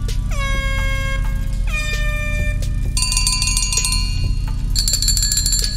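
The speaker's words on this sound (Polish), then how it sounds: "Klakson." Horns from Need for Speed Heat are tried out in turn over a steady engine idle: several short melodic toots that bend downward, followed by two longer, bright, chord-like blasts.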